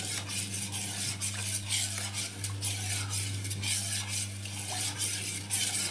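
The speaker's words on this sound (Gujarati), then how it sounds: "હવે આમાં આપણે ચમચીની મદદથી બધો ગોળ ઓગાળી લઈશું" A spoon stirs jaggery into water in a metal pot, scraping and clinking steadily against the sides at close range with no talking.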